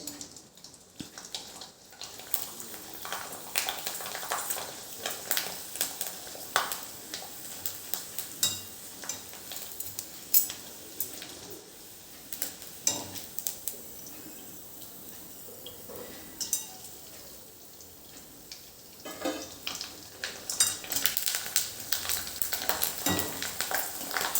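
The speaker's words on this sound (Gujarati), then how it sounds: "ફ્લેમ મીડિયમ રાખીને આપણે આવી તેને તળી લેવાની છે" Sago and potato chakri deep frying in hot oil over a medium flame, a steady crackling sizzle that runs through the whole stretch with bubbling bursts, moderately loud and close, with no voices.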